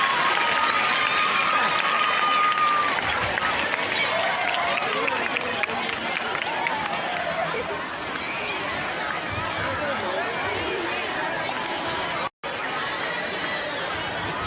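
Audience at a school ceremony honouring a founder with a doctorate, sustained broad applause and crowd noise throughout, mixed with voices, with a brief dropout near the end.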